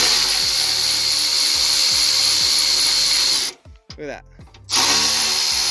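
A power tool, likely an impact driver or drill, whirs loudly and steadily while backing bolts out of an old parts truck, with repeated short bursts; it cuts out briefly as someone speaks, then resumes.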